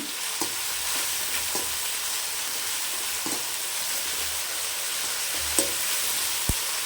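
Onions with ginger garlic paste sauté in a pan with a constant close sizzle, broken by a few sharp clicks of a spoon against the pan, and no voices.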